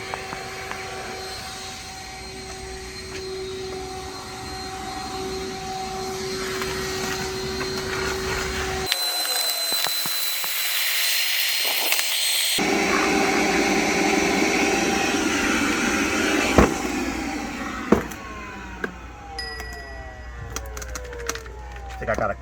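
Loud, continuous whine of a RIDGID 18V cordless 3-gallon wet-dry vacuum running, briefly cutting out then resuming with rattling as sawdust and large debris are sucked through the clogging hose.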